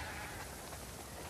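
Sheep bleat faintly in The Last of Us Part 2 on a farm, through a wash of soft hissing noise, the calls blurred and low in level.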